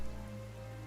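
Steady, faint rain patters evenly on surfaces in the Genshin Impact game world, a soft continuous hiss with no voices over it.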